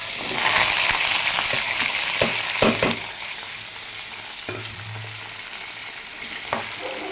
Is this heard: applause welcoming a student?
no